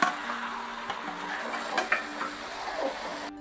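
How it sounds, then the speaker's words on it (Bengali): Meat being sautéed in a pan, with soft stirring scrapes and faint sizzling under intermittent utensil clicks, fairly quiet and close, with no one talking. "এইভাবে করে মাংসটাকে একটু ভালো করে কষাতে হবে"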